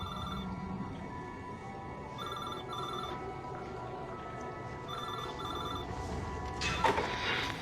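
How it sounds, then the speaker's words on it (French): A telephone rings indoors in a quiet hospital office at night, bursts of electronic ringing repeating in a steady pattern over a low background hum, with a brief louder clatter near the end. "le téléphone a sonné"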